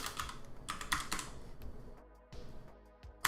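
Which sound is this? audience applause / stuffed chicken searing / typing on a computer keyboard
typing on a computer keyboard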